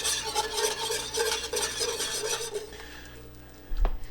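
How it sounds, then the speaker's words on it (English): Cider gravy reduces in a pan while a spoon stirs it with steady scraping strokes and a soft sizzle underneath, followed by one louder knock near the end. "I'm just going to continue to stir this and allow the volume of the liquid to reduce by about 1/3"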